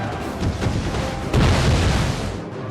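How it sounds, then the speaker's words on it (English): Grenadiers' explosives in the Napoleon: Total War video game thud in dense, overlapping booms against a British infantry square, a continuous loud rumble of blasts with a stronger surge midway. "They counter with grenadiers, throwing explosives into the British square, dealing massive casualties and morale damage to my flank."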